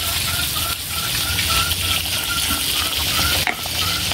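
Ginisang monggo with string beans, malunggay and alugbati being stirred in a pan, a loud continuous sizzle with scraping and clinking of the utensil against the pan, close up and without talk.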